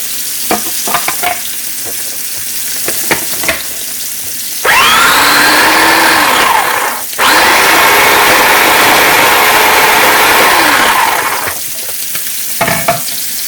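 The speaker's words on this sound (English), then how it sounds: "Now let me see if I can fight with this food processor as per usual." A kitchen food processor runs in two sustained whirring bursts of about two and a half and four seconds, loud and close, with a brief stop between them and light clatter before and after.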